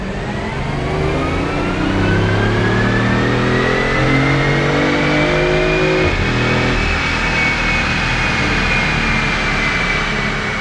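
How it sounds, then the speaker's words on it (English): BMW i8 hybrid, electric motor and petrol engine working together, revving hard on a chassis dyno in third gear: a loud, steady rising engine drone climbing in pitch over about ten seconds, with a brief dip midway. "so we have the electric motor and the gas motor working together here"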